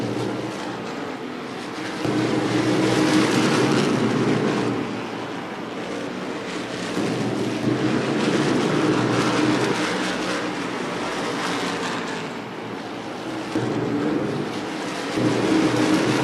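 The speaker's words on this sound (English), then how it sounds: "Cars all around the racetrack, mostly single file right now" Race cars lapping the oval at Wall Stadium during the Turkey Derby, a sustained roar of engines that swells and fades as the field passes in mostly single file, continuous and fairly loud with no talk.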